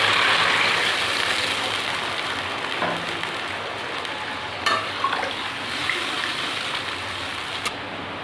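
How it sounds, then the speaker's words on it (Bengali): Water poured into a pan of curd potol curry, a loud, steady rushing splash at first that eases into a softer bubbling hiss, with a few light knocks. "এবার আমি জল দিয়ে দেবো।"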